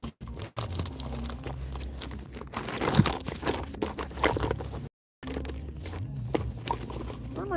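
Keys and items rustle and crinkle inside a purse as someone rummages through it, a close, continuous clatter of shifting contents with a short break partway through.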